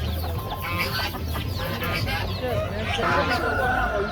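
Broiler chickens at a busy poultry market cluck steadily throughout, with many birds calling at once close by, under constant crowd chatter and voices.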